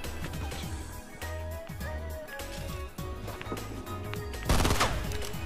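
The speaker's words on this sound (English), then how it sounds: "I'm hearing gunshots" Rapid automatic gunfire from the Fortnite battle royale video game, season 5, rattling in dense bursts of repeated shots with a louder close burst near the end.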